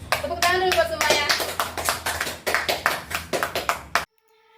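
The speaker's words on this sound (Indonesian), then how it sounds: "Tepuk tangan dulu buat semuanya." A small group claps hands, with rapid, uneven clapping and a voice speaking over the start, lasting about four seconds before cutting off abruptly into silence.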